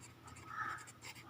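Pen or marker writing out a Class 9 maths matrix exercise, a soft scratchy stroke sequence heard close and faint in a quiet room, with no talk.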